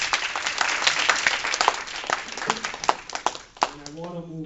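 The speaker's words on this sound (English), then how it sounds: "I want a big round of applause" Audience applause at a club candidates forum, a crowd clapping steadily for about four seconds, then fading as a voice speaks at the end.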